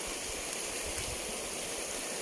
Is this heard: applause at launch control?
no